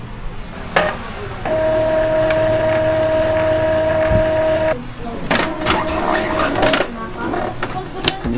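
Epson printer running a head cleaning cycle, its mechanism whirring in a sustained steady tone for several seconds, then stopping and restarting with intermittent clicks and shorter motor bursts; a person talks over parts of it.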